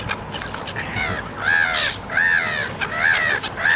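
Black terns give harsh, grating calls by the water, several loud rasping cries in bursts close by as birds crowd for bread.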